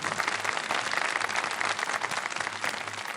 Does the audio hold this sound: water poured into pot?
no